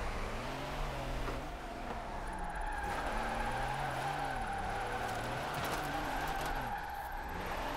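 A car drifting in Forza Horizon 4, driven on a wheel, its engine droning and bogging between throttle stabs as tyres squeal in long sliding arcs, steady and close throughout.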